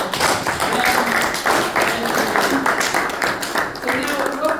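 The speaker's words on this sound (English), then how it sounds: "So let's give a round of applause for them." A small audience at a debate claps in a brief, sparse round of applause, the individual claps close and uneven, with some voices mixed in.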